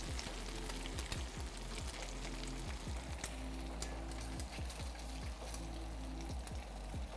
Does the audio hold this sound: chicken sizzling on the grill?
yes